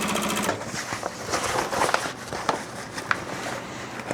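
A sewing machine stitches a backpack seam through foam padding, its needle running in a fast, even chatter from close by. There are small irregular knocks as the fabric moves.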